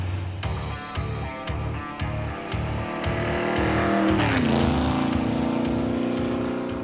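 A '56 Chevy field car with a new engine drives hard, its loud engine note rising through gear changes. A pulsing low rumble and a brief squealing, sweeping burst around the middle stand out, with no talking.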